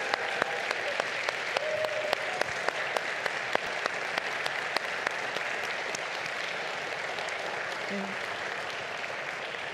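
Sustained applause for graduating MFA students at an Alma College commencement, with a crowd clapping steadily, a few crisp close claps standing out, and a faint voice briefly audible under the clapping.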